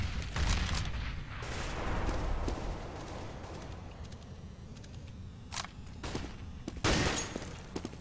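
Gunfire crackles in a Counter-Strike match on de_mill during ESEA LAN playoff play, with sharp bursts of shots and clattering impacts at moderate distance, some clustered rapidly, over steady game ambience.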